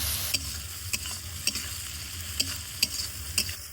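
Chopped tomatoes fry in a pan with a soft steady sizzle, punctuated by about seven regular scraping clicks of a spoon stirring, close and moderately quiet.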